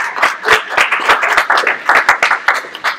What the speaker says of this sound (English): Let's give another round of applause for doing this.